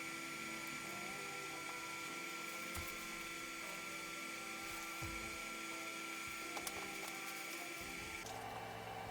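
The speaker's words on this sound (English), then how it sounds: "this motion of the gantry going up and threading the rod is going to spread the lube evenly over the threads" A Creality Ender 3 3D printer's gantry climbing its lubricated Z rod, producing a steady, faint motor whine and hum with a few small clicks.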